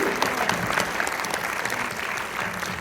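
A film preview screening audience in Orléans breaks into sustained, dense applause, steady and loud for the whole stretch with no voices standing out.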